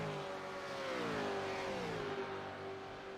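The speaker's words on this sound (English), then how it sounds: "Listen to that engine." A race car engine in the iRacing simulator at Watkins Glen, a Holden Commodore, holds a high, steady whine that rises and dips slightly through gear changes, loud and continuous with no voices.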